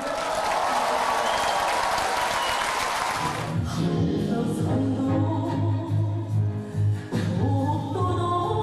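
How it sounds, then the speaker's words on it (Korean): Audience applause at a North Korean Samjiyon art troupe performance, a broad wash of clapping for about three seconds that gives way to sustained music with steady low tones. "크게 박수를 보내주시면"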